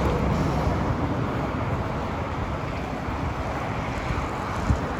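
Heavy wind buffets an iPhone microphone beside a highway in a constant low roar and rumble, with no voices, loud and close throughout.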